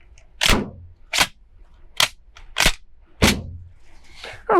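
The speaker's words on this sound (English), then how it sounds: "just gonna start with a single round of the flight control 8 pellet double-aught" A Beretta 1301 shotgun with a Vang Comp fires Flight Control 00 buckshot in a string of five sharp, loud reports, spaced under a second apart, with quiet between blasts.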